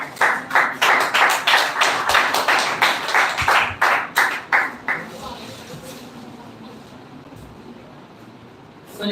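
An audience claps for the next speaker, Amit Kumar, at a speech competition semi-final. A steady run of close, rhythmic claps lasts about five seconds, then fades into quiet room noise.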